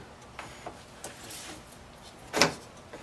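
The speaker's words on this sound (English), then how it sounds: "do a quick functional check to make sure that it's working properly by operating your power door locks" A Honda Civic's power door lock actuator operates, giving a series of soft mechanical clicks and ticks followed by one louder, sharper clunk near the end, close and isolated.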